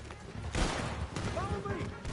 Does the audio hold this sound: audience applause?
no